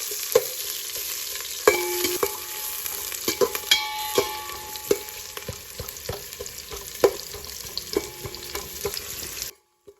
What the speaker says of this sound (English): Now you can see our onions are also frying nicely.